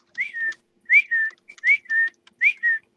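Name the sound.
a voice imitating a whistle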